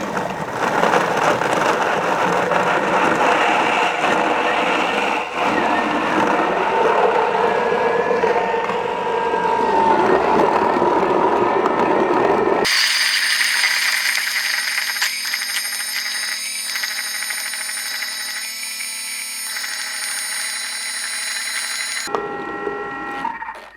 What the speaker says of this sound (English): now we're just gonna whiz that up, and it's just on a high speed in your processor or blender until it's nice and smooth